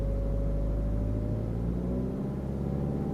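A modern Ford car engine in fourth gear at about 2000 RPM, its steady low droning hum sagging and faltering near the end as the clutch comes up slowly and the engine stalls.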